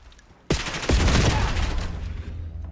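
Gunfire in a Call of Duty match at a competitive league championship, a sudden loud burst of rapid shots after a quiet moment that then sustains as dense, heavy firing and slowly eases, with no speech.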